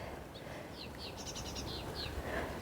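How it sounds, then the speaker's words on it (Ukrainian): Small birds chirp in a garden in the Odesa region, a few short high twittering phrases, fairly faint, over a soft steady background rumble. "Пташки співають."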